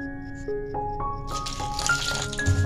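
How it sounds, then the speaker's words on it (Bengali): Water trickles into a bowl of cauliflower batter mix for a Bengali cauliflower manchurian, a close, steady pour whose pitch rises as the bowl fills, with wet splashing toward the end. "এবার এটা জল দিয়ে একটা ব্যাটার তৈরি করে নেব।"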